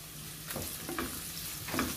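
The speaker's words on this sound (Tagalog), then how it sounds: "Fry it until the aroma comes out." Garlic, onions and bay leaves fry in a pan under a faint, steady sizzle, with a few soft scraping stirs rising briefly above it.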